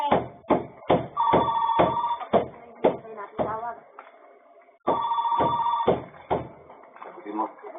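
A telephone rings in repeated bursts of electronic bell tones with brief gaps between them, loud and close, while a voice talks over part of it.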